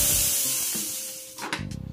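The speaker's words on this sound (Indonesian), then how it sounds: "kemudian buang uapnya sampai habis supaya nanti pas kita buka tutup presto jadi aman" Steam hissing out of the release valve of a pressure cooker after cooking beef soup, a loud continuous spray that fades, then a brief pause and renewed sputtering, pulsing bursts near the end.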